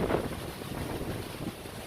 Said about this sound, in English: It's like a typhoon